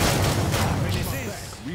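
A grenade blast amid gunfire in Killing Floor 2, a zombie shooter game: a loud booming explosion with rapid shots that fades into a rumble, with a voice briefly heard at the end.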